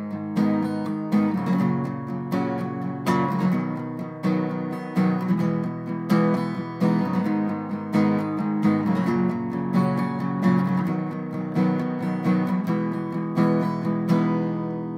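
Guitar strumming chords in a steady rhythmic pattern, strokes varying from softer brushes to harder, fuller strums, played alone with no voice.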